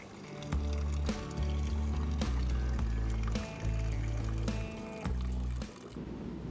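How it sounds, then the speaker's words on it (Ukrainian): Spring water pours from a mountain source in the Wetterstein range in Tyrol, a continuous gurgling, filling flow with shifting low resonant tones, fairly close and steady for several seconds before easing off. "Водичка, водичка з джерела."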